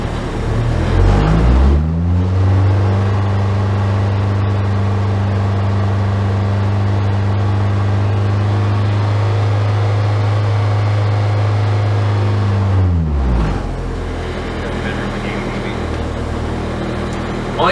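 An Acura RSX race car with a K24 engine runs a sound test at wide open throttle on the track. The loud engine drone climbs quickly, holds steady for about eleven seconds, then drops away.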